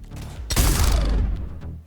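A heavy burst of gunfire in Mass Effect 3, a sudden loud blast that rolls out into a booming, echoing decay for about a second before fading.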